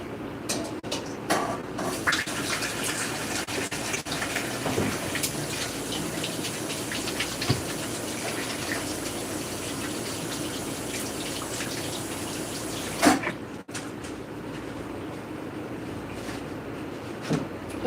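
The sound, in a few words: washing hands under running tap water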